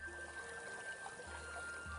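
The Bunduff River runs high in the Glenade Valley beneath the Dartry Mountains, a soft, steady trickle and pour of water, faint and continuous with no voices.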